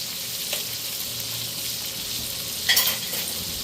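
A steady close sizzle comes from a HexClad pan as it is basted, with a brief louder spattering burst near the end and no talking.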